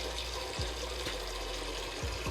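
Tap water runs steadily into a cooking pot being filled for boiling pasta, a constant, even splashing stream from start to finish.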